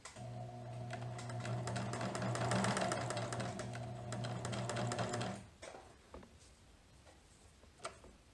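A sewing machine runs a steady, fast stitching rhythm along a seam on a Vogue 9057 garment for about five seconds, then stops, leaving a few quiet clicks and handling sounds.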